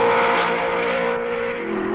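Vintage Grand Prix race cars at the 1955 Spa race pass the pits, a loud, steady engine roar with a strong whining pitch that dips slightly as the cars go by, no voices.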